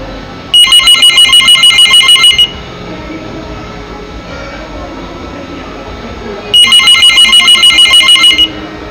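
Analog telephone ringer amplifier sounding a loud electronic bell ring in two separate bursts of about two seconds each, with a rapid warbling trill and a quieter background hum between them.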